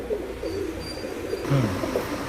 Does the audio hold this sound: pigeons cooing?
yes